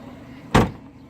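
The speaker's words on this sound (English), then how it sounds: "for this trunk, you really have to slam it to get it closed" Trunk lid of a 2000 Renault Twingo slammed shut once, a single loud, close, sharp thud with a brief boomy tail against quiet surroundings.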